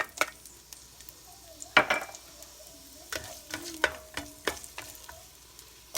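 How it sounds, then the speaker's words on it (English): Onions sizzling in olive oil in a pot for Filipino-style chicken soup, with a loud clatter as they go in, then a light crackling sizzle broken by spoon clinks and stirring scrapes against the pot. "Now I'm gonna add my onions"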